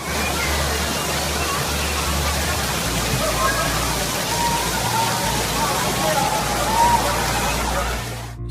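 Heavy rain pours down during a violent thunderstorm in Southeast Queensland, a dense, constant, hissing roar that fills the whole stretch without pause.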